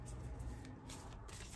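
Moonology oracle deck cards being shuffled by hand, a soft continuous riffling and brushing of card stock, close and quiet with no talking.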